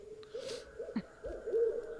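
A person imitates a barred owl, giving a few breathy hooting calls at close range, short and uneven in rhythm.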